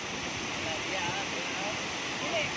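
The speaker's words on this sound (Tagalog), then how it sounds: "Baga Falls." Baga Falls produces a steady, broad rushing roar of falling water, with faint voices blending into the constant wash.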